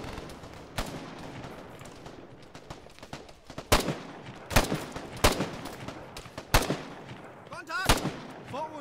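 Gunfire striking a wall in the video game Arma 3: a string of sharp, loud cracks and impacts, some in quick pairs, punctuating a low rumbling background.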